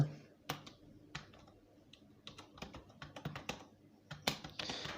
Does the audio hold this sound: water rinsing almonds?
no